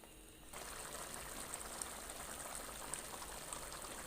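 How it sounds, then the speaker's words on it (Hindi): Tomatoes and onions frying in a pan over a high flame, giving a steady, dense sizzle and crackle that starts after a brief quieter moment and continues evenly, close by with no talking. "अब मैं हाई फ्लेम पे इसको टमाटरों को और प्याज़ों को थोड़ा सा भून लूँगी"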